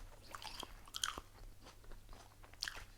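Someone chews white sapote fruit close to the microphone, with quiet, soft moist bites and a couple of sharper crunchy clicks in a hushed room.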